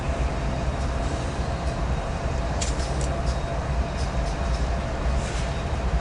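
A Q or Z freight train rolls past a rail line at Commerce with a steady, loud rumble and wheel noise that holds through the whole stretch, with faint high squeals on top.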